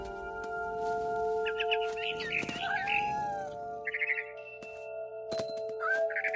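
A cat meowing and caterwauling in the video game What Remains of Edith Finch, several drawn-out, wavering cries over a steady ambient drone, with faint bird chirps and occasional sharp cracks nearby.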